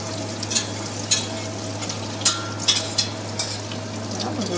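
Butter melts without browning in a saucepan over gentle heat for a béchamel roux, giving a soft steady sizzle under a low hum, punctuated by a few sharp clicks and scrapes of a utensil against the pan.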